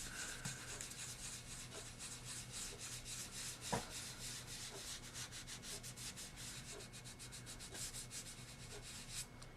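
A sponge rubbed over paper to lift and blend ink: a faint, steady scratchy rubbing with soft dabbing strokes and one sharper tap, close up and without talk.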